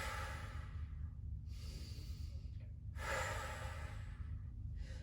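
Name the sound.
exhale during a hamstring stretch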